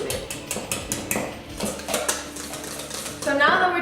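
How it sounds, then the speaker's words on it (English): A whisk beats rapidly against a mixing bowl for a Thanksgiving dinner recipe, a close, rhythmic series of metallic clinks and scrapes that speeds into a brighter rattle at the end. "You're gonna be whisking until both of these look white"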